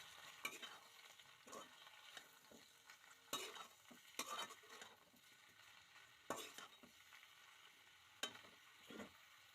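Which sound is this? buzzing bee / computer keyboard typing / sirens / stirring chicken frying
stirring chicken frying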